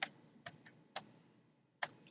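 A few separate computer keyboard keystrokes typing a short print command, crisp clicks close by with gaps between, no voices.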